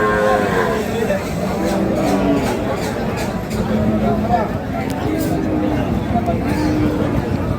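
Bulls and other cattle moo loudly and repeatedly at the Ambari livestock market in Dinajpur, set against a constant hubbub of crowd chatter and nearby voices.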